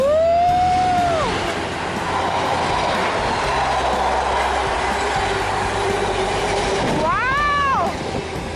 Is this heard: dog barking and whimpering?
no